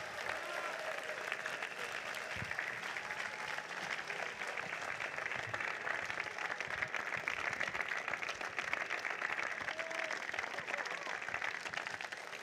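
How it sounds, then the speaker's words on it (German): A crowd at a campaign rally in Hannover applauds to welcome Chancellor Olaf Scholz: sustained, even clapping at a distance, soft in level and unbroken for the full length. "Großen Applaus für dich."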